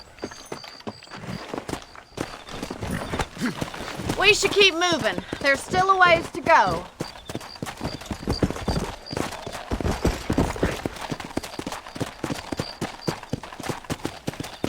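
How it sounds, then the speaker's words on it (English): Steady clip-clop of horse hooves walking throughout in Red Dead Redemption, with someone talking briefly over them and some music in the background. "Let's get back on the horses and see what else is going on"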